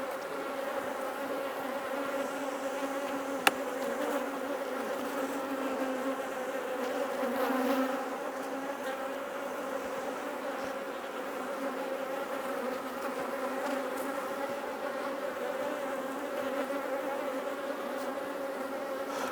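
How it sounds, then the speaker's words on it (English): Honey bees swarm in the air around an open hive, making a dense, continuous buzz of many wings at an even level for the whole stretch, with no talk. "You can see the bees are in the air quite a lot."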